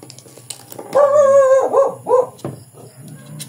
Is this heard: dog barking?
yes